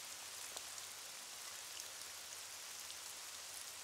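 Steady, dense rain pours down without a break in an animated children's cartoon scene, a continuous hiss that stays at an even loudness throughout with no voices.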